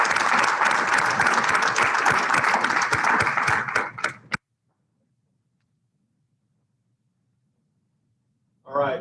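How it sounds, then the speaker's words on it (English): An audience applauds students at a Lake Highlands club meeting, loud continuous clapping for about four seconds that stops abruptly, followed by silence before a voice begins speaking. "Let's give them all a round of applause."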